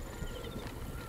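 Horse hooves in the video game Assassin's Creed Origins, a quick run of soft, rhythmic clip-clops over a steady game ambience in a short, moderately quiet burst.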